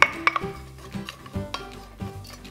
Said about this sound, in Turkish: soğanı koyuyorum. Havucu koyuyorum.